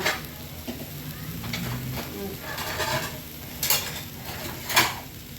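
Close sizzling of small shrimp frying in a pan with occasional clinks and scrapes of a utensil stirring, steady hiss throughout.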